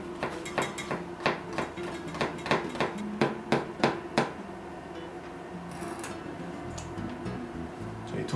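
A knife chops zucchini into thin 4 cm strips on a cutting board, giving a run of crisp, evenly paced knocks up close that fade into quieter handling sounds.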